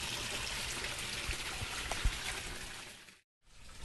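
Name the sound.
aquaponics waterfall flowing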